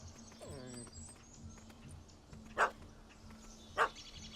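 Two short, sharp dog barks about a second apart in The Witcher 3 video game, standing out over a low, steady game ambience with some softer earlier yelps.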